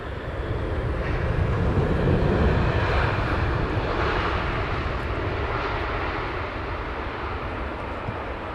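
A Boeing 787 Dreamliner airliner arriving at Heathrow on an evening approach, a loud broad jet roar that swells and then slowly fades as the aircraft passes, with no voices over it.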